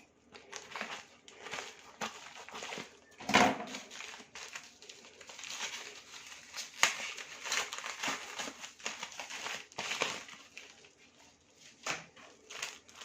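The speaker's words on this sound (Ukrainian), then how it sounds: "Наступне, що відкрию, це ось цей пакетик." A small plastic packet from a parcel shipped from China crinkles and rustles for several seconds as it is opened, with a sharp tearing crackle early on and scattered handling noises after.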